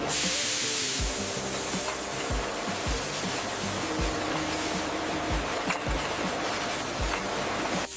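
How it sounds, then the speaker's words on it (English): Loud, continuous hissing steam blasts inverted empty glass jam jars on a strawberry jam factory line, with dull thuds of jars knocking by at a steady rhythm beneath the spray. "empty jars are inverted and blasted with high-temperature steam"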